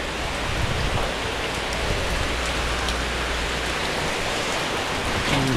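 Heavy rain pours steadily in Bucana, a dense, even hiss of drops hammering surfaces that stays loud and unbroken throughout, with no voices over it.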